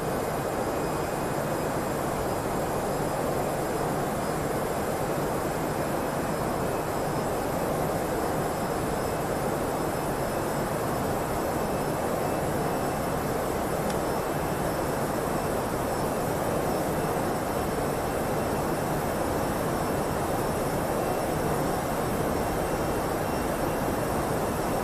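Aircraft engines roar steadily through a thrust climb, a loud, continuous broadband drone with a low hum that holds unchanged throughout, no voices.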